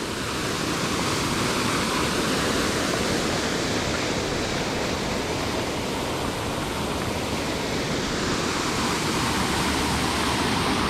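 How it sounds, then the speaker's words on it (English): Spring water at Rock Spring, Wekiva Falls, rushing steadily out toward the river, a loud continuous wash of flowing water with no talk. "Water comes out of here and feeds out into the river."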